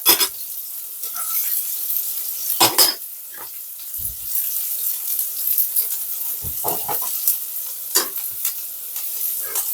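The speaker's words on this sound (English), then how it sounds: "we're going to fry off these vegetables" Vegetables being fried in a pan, with intermittent sizzling bursts and stirring clatter against the pan alongside quieter hissing gaps, close by and without talk.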